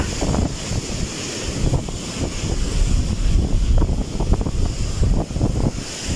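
Strong typhoon wind buffets the microphone over a constant roar of surf near a flooded coastal village where boats have been hauled up, loud and unbroken throughout.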